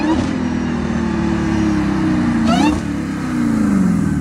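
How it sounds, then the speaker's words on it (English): A supercharged Dodge Hellcat engine revs and accelerates hard nearby, a loud steady drone with a rising supercharger whine, briefly dipping as it shifts before pulling again. "the sound of that supercharger makes me smile from ear to ear"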